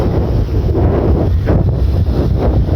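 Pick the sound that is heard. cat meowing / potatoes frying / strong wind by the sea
strong wind by the sea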